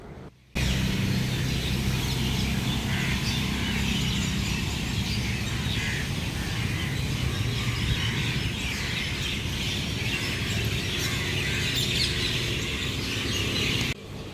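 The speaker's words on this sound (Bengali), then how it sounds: "এই জায়গাগুলো ভীষণ পাখি ডাকছে" Many birds chatter and chirp together outdoors in the evening, a dense, steady chorus of overlapping calls over a constant background hiss, with no talking.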